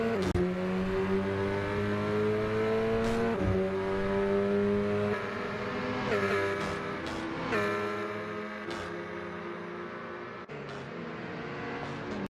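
Engines of a VW Golf and Polo in a SimSpeed video-game race drone and rev, pitch climbing steadily then dropping at each gear change, several shifts in sequence, loud and close with no talk.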